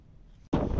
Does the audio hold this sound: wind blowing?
yes